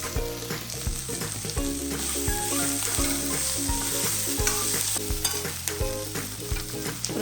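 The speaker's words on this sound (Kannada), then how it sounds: "ಇದನ್ನು 5 ರಿಂದ 10 ನಿಮಿಷ ಹುರ್ಕೋಬೇಕು." Palle curry frying and being stirred in a pan after turmeric powder goes in, a steady close sizzle with scraping stirs, heard under loud background music with a steady beat.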